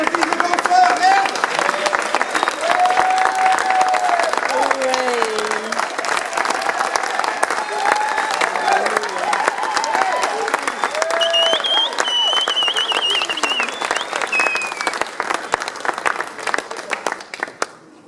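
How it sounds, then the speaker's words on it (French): Audience applauding dancers at a performance, a steady, dense wash of clapping that runs loud and unbroken for the whole stretch, with faint voices and tonal sounds woven underneath. "On applaudit les danseurs"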